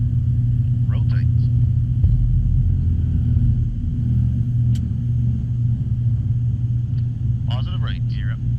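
An ATR 42 turboprop of Canadian North climbing after takeoff, heard from the cockpit as a loud steady engine drone and low rumble, with brief crew radio voices cutting in over it.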